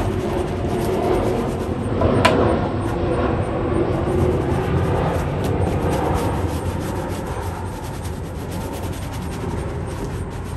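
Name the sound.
soft brush scrubbing nylon upper of dusty shoes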